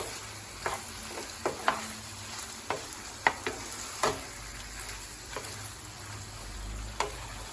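Prawn curry stirred in a pan over high heat: a steady low frying hiss throughout, broken by sharp, irregular scrapes and knocks of the spoon against the pan, about a dozen in all, with no talking.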